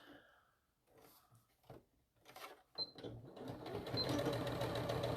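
Close sewing machine stitching fabric for a small handmade bag, starting with short bursts and settling into a steady loud whir, with a few faint handling clicks.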